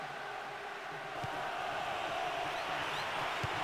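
Steady roar of a stadium crowd in Bomba Patch 2023 on PS2, a continuous murmuring wash with slight swells, unbroken and at a constant moderate level.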